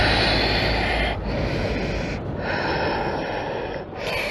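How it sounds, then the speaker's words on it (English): Slow, deep breaths during a yoga relaxation pose, a few long drawn inhales and exhales in a steady cycle, close and clear with no talking over them. "So take your breath here. Lengthen your inhales and exhales."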